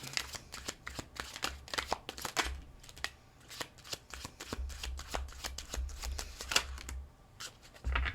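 Tarot cards being shuffled and handled, a close, brisk riffling with rapid snappy flicks in uneven bursts and brief pauses, no talking.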